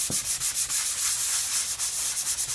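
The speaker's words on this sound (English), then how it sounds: "We'll take our sanding block and we'll do just like before" A sanding block rubbed back and forth over a drywall skim coat patch, a steady, close scratchy hiss in quick regular strokes with no voices.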